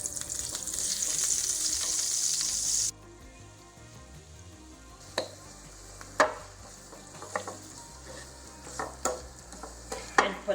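Onions fry in olive oil and butter, hissing loudly in a pan for a few seconds, then dropping to a quieter sizzle broken by scattered stirring clicks and scrapes.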